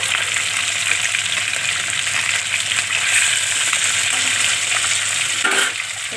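Hilsa fish frying in a pan gives a steady, dense sizzle close by that runs without a break, with no talking.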